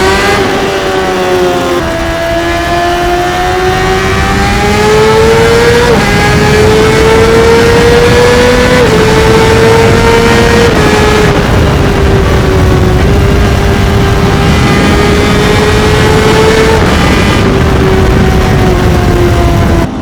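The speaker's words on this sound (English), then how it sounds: "you just hear the bike just screaming, banging through gears" Honda CBR600RR sport bike screaming loudly and close up as it accelerates hard, its rising engine pitch dropping at each gear change several times over twenty seconds, under steady wind rush.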